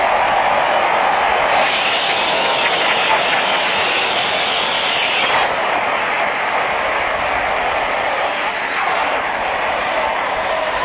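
Cricket stadium crowd applauding during a DC vs LSG match, a sustained roar of clapping and cheering that swells and shifts over several seconds, broad and continuous like distant rushing noise.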